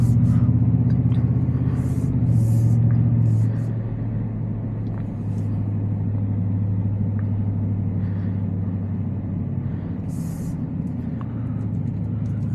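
A lowered, supercharged Ford F-150 Black Widow pickup in sport mode gives off a steady, loud low engine drone and road rumble from inside the cab, with the pitch shifting slightly as it drives and faint ticks above.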